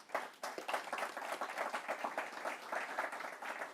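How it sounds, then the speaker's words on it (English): Faint, distant applause from an audience honoring panelists at a conference on levitating maglev trains for existing railway lines, a dense, steady patter of many hands. "How about a round of applause for all of our panelists?"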